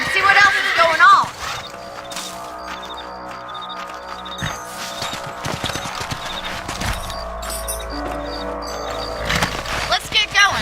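Horses in the video game Red Dead Redemption trot with rhythmic hoof clip-clops over a backdrop of game music and ambience, and a horse whinnies near the start; characters speak at points.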